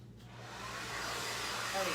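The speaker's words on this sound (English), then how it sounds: "My hair dryer just barely reaches" A hair dryer runs steadily at close range, giving a loud continuous airy whoosh with a low motor hum that holds constant throughout.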